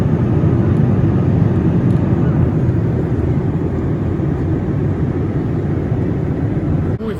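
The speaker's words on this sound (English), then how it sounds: "We're on the plane." Steady, loud broadband roar of a passenger airplane cabin in flight, a continuous low rumble that holds unchanged for several seconds with no voices.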